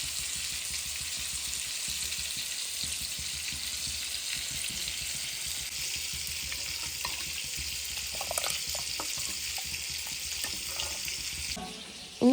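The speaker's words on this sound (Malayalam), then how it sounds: "നമുക്ക് ഓരോ ട്രിപ്പായിട്ട് ഇങ്ങനെ വറുത്ത് എടുക്കാം" Fish frying in a pan, a continuous close sizzle and crackle of hot oil with a few soft stirring clinks, holding steady throughout with no talking.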